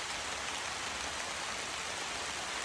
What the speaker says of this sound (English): It's raining hard.